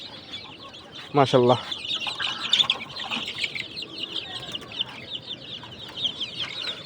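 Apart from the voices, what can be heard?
desi chickens clucking on a farm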